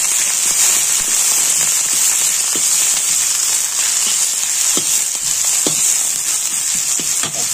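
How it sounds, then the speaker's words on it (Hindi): Hot oil crackles and sizzles steadily with scattered sharp pops as onion and spices (coriander, a little cumin and fenugreek) fry in a pan, close and loud with no talking. "तो देखिए तेल गर्म हो चुका है, ये मैंने जो हमने मसाला रखा था वो डाल दिया।"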